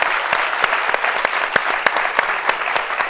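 Scattered, fairly sparse clapping at a television talk show, a small group whose individual sharp claps stand out in an uneven rhythm over a soft crowd bed.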